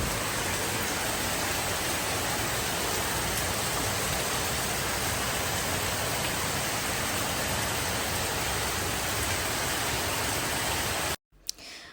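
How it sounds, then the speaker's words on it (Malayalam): Heavy rain pouring down in a dense, unbroken roar that stays loud and even for about eleven seconds, then cuts off abruptly to a quieter background. "കാരണം നല്ല മഴ പെയ്തുകൊണ്ടിരിക്കുകയാണ് ഇവിടെ."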